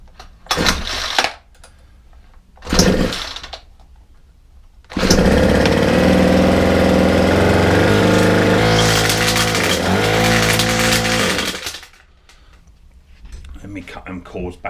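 A Ryobi 4-stroke string trimmer engine starts after two short pull bursts, then runs loudly and close for several seconds, revving up and down before cutting out into quiet.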